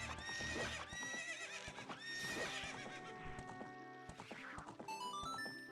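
Horse neighing and clip-clopping hooves from Zelda: Ocarina of Time: a loud, shrill whinny rising over rhythmic hoof beats, heard alone with a game music backdrop.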